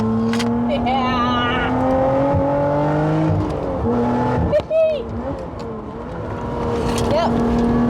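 A Lotus Exige 410 Sport accelerates hard on the road, its engine droning and climbing through gear changes, heard from inside the car with a person talking over it.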